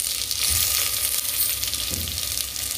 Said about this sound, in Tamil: வெங்காயம் பூண்டு பொன்னிற அளவுக்கு வதக்கி விட்டுடுங்க.